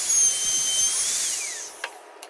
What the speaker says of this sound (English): This Makita router only requires one wrench.